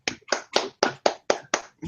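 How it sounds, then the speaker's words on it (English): Seven sharp hand claps from a single player at a roleplaying game table, evenly spaced, close and crisp, with no voices over them. "I'll clap."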